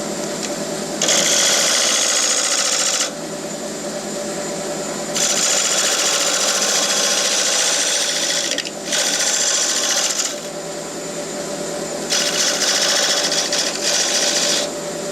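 Wood lathe spinning a large bowl held in extended Cole jaws, a loud steady whirring hum with bright hissy bursts that come and go in several long stretches.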